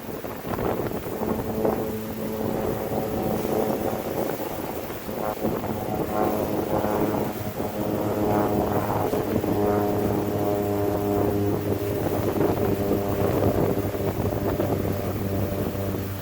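An airplane passes overhead outdoors during a honey bee swarm capture, a steady droning engine hum that persists throughout, mixed with wind buffeting the microphone.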